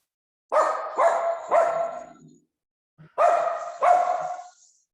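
A dog barks at someone arriving at a house, giving three quick barks, a pause, then two more, loud and close with no talk.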